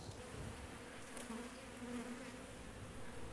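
Honeybees at a hive during sensor maintenance, a dense continuous buzzing hum holding steady throughout, close and fairly loud with no voices.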